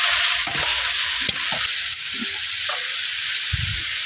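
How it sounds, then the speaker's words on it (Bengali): Chopped ash gourd tossed with fried shrimp in a pan, a constant bright sizzle with scattered scrapes and knocks of a spatula stirring, close and loud. "ভালোভাবে এখন নাড়াচাড়া করে নেব।"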